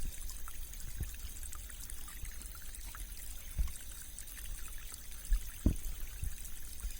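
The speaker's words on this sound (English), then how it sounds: "listen to the wonderful sounds of the water rippling and flowing across" A small natural stream ripples and trickles steadily, a soft continuous close flow of water with occasional louder gurgles and splashes, alone without voices.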